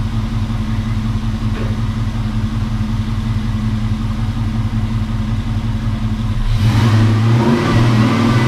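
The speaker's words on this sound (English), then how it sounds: "When I did that, just gave it a little blip, it was just like a steam engine" A Dodge Dakota pickup engine idles with a steady, throbbing low rumble, then gets a quick blip of the throttle near the end that swells into a louder, rougher rev.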